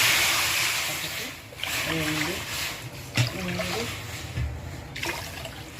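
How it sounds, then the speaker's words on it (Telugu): Water splashes and trickles into a pan in uneven pours, four cups for semolina pongal, with a person speaking briefly over the liquid sounds. "4 కప్పుల వాటర్ వేసుకోవాలి"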